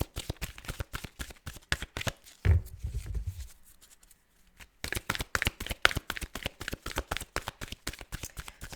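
Tarot cards being shuffled, quick riffling flicks in fast bursts, then a thud and a brief lull before the rapid shuffling resumes, close and clear with no talk.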